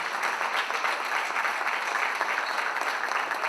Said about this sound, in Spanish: Fuerte los aplausos para esta mesa de mujeres